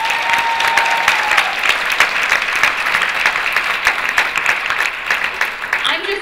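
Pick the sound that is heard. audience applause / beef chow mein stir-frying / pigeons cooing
audience applause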